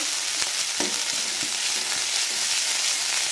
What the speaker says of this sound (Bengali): পেঁয়াজ বাটা দিলাম, নাড়ব, আদা রসুন বাটা দিলাম, ভালো করে নেড়ে দেবো।